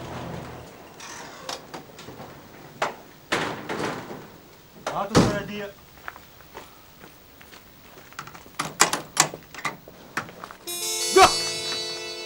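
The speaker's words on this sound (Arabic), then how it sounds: "فتح الباب." A door opens and shuts with several wooden thumps and a hard slam mid-scene, close and fairly loud, amid footsteps, rustling and speech in a Syrian TV comedy series.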